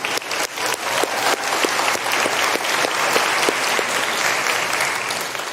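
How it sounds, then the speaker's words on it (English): A university baccalaureate ceremony audience claps loudly and steadily for several seconds, a dense, close wash of many hands with no talking over it. "I want to ask you to clap once more for yourself, because you made it."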